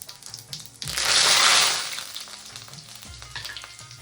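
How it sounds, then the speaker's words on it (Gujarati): Curry leaves hit hot oil with spluttering cumin seeds, bursting into a loud close sizzle that swells for about a second, then settles into lighter crackling frying. "જીરું ફૂટી એની અંદર નાખશું લીમડી"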